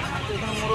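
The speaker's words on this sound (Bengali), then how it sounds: "এই দেখুন এখানে মোরগ আছে।" A rooster and other chickens at a busy poultry market in Uluberia give clucking calls, blended into a steady wash of crowd noise and nearby chatter.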